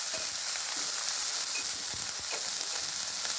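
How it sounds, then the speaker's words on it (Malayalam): Tomatoes and spices sautéing in a pan, producing a steady, dense hiss of frying with scattered soft stirring clicks, close and continuous without any talk. "തക്കാളി ചേർത്ത് നന്നായിട്ട് ഇളക്കി അത് വഴറ്റുക."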